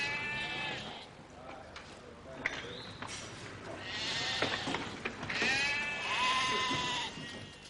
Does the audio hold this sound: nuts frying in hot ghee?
no